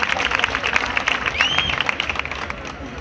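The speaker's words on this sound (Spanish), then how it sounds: "Un fuerte aplauso a la representante de Bezmar, Marina Jiménez, 18 años." Audience applause at a town pageant in Spain, greeting a local representative on stage: steady, dense clapping from a crowd through the whole stretch, with a faint whistle rising midway and a voice murmuring underneath.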